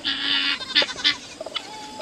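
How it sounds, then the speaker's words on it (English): Chickens in a backyard pen make a short run of close clucks and squawks, a dense burst at first and then scattered brief calls. "Really, chicken? I'm so tired of catching chickens."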